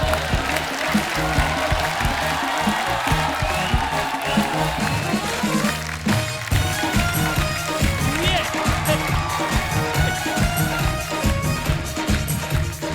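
Studio audience applauding to welcome actor Shakti Kapoor onto a Hindi TV talk show stage, a dense, sustained wash of clapping that runs loud and steady throughout, mixed with music and crowd noise.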